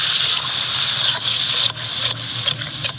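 Loud, dense sizzle and crackle of onions frying in hot ghee, with brief surges and small pops as the pan is stirred.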